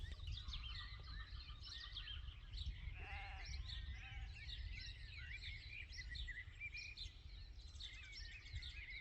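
Sheep resting in the shade under a willow tree on a New Zealand farm bleat once briefly at a middle distance, set against a steady morning chorus of birdsong and a low wind rumble.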